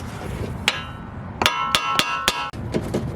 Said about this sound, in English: take your sweet bro hammer that your buddy gave you, smack the top of this until it pops out